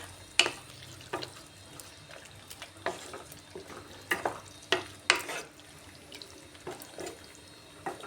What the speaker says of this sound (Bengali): ভেজে রাখা পটলটা দিও মশলার সাথে একটু ভালো করে কষাতে হবে